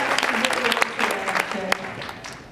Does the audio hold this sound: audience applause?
yes